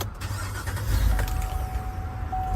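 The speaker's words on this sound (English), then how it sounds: "Let me go ahead and turn the truck back on." A pickup truck raised on a lift is started up, a brief crank followed by the engine catching and settling into a low, close idle with no one talking.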